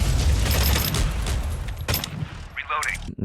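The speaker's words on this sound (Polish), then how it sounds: "niektóre dźwięki wystrzałów i karabinów są naprawdę ciekawe" Rapid bursts of gunfire and rifle shots from the Korean FPS game CROWZ, with a loud, dense rattle, then a short mechanical whir and a final sharp crack.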